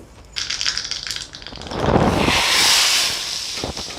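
Half a teaspoon of mustard seeds crackle and sputter in two spoons of hot oil, tempering for a sambar; a dense hissing, popping sizzle swells and holds steady, loud and close, with no voices.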